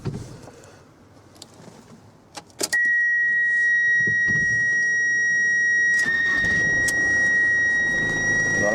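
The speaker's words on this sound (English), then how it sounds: "Now let's start it up." A 2004 Ford Transit Mk6 van engine cranks and catches, then settles into a steady idle with a constant whine, heard close from inside the cabin after a quiet start.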